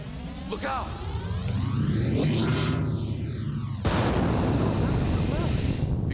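Explosions in the video game OverBlood boom out in heavy bursts, a rumbling blast followed by a second sharp detonation partway through, loud and close.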